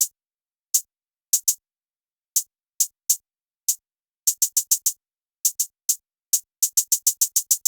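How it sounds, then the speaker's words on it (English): Crisp, faint hi-hats from a trap beat built in Omnisphere 3, ticking in an irregular pattern that speeds into quick rolled bursts, heard alone with no other instruments. "a hi-hat pattern."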